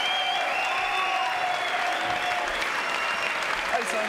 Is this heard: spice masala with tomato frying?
no